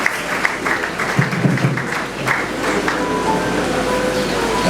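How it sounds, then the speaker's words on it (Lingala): A congregation at a funeral service claps and cheers loudly, a dense sustained burst of applause with scattered voices throughout. "Est-ce qu'on peut acclamer très fort?"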